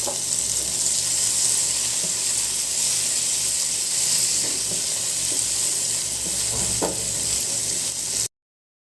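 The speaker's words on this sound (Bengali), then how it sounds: "আমি পেঁয়াজটা ভেজে নিলাম" Raw onions frying in oil left over from cooking potatoes, a strong continuous sizzle with soft crackles and the occasional scrape of stirring, close and steady before cutting off abruptly.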